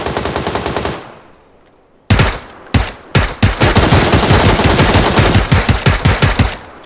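Automatic gunfire from PUBG (Battlegrounds) erupts after a brief lull: loud, dense rapid bursts of machine-gun shots that keep hammering close up, with sharp separate cracks mixed into the sustained fire.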